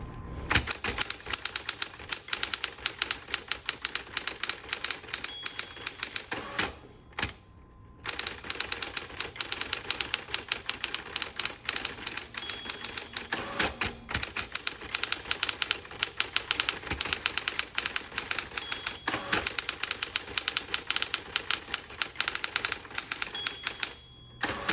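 Rapid, steady clacking of an Electra 210 electric typewriter fills the room, keys striking in quick bursts with one short pause partway through.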